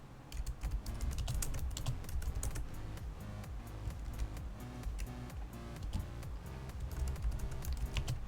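Rapid, continuous keystrokes on a computer keyboard during a typing game, with steady clicking that stays close and even throughout and no voices.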